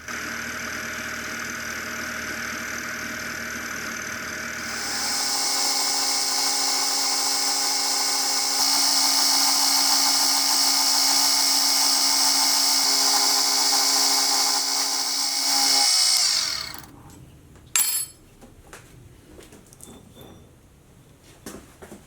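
A milling machine cuts a recess into the side of a steel fly cutter body for a 200mm fly cutter, a steady loud whining cut with tonal harmonics that runs for about eleven seconds and then stops, leaving scattered clanks.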